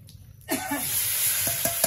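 Spice paste, tomato, ginger, garlic, chili and onion hitting hot oil in a pan for a fish curry, a sudden loud burst of sizzling that keeps hissing steadily, with a few scraping stirs near the end.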